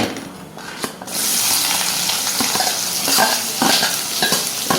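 Chopped onions hit hot oil with cumin, cloves, cinnamon and bay leaf, bursting into a loud, close sizzle after a quiet second, with utensil scrapes and clinks as they are stirred.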